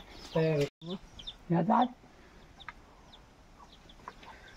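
A few loud clucks and a short crowing burst from a village rooster up close, then quieter chirps from chicks and faint clucking over a hissy outdoor background.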